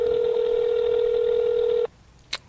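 Telephone keypad tone held steadily for a couple of seconds, then stopping, followed by a brief short beep as a number is dialed on a phone.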